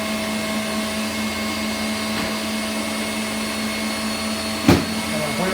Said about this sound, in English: We want to bring it on up to a higher speed. We're just going to let it mix